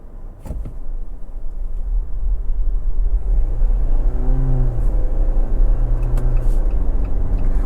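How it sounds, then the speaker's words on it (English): A 2024 Jeep Wrangler 4xe Rubicon X heard from inside while driving, its engine starting smoothly under steady road rumble as a low humming drone rises and settles. "I do like how seamless the engine comes on."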